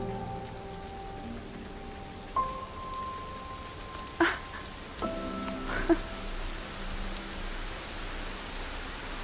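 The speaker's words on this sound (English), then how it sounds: "It's raining." Rain pours steadily in the video game Jusant, a dense, even hiss that fills the scene throughout while gentle musical tones sound faintly over it.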